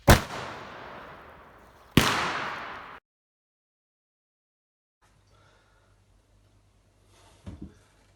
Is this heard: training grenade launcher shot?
yes